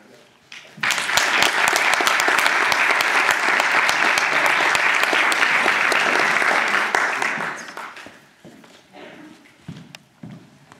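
Audience applause welcoming a speaker to a talk on communicative capitalism: a sustained, dense clapping roar from a full room, lasting about seven seconds before tapering into scattered claps and murmurs.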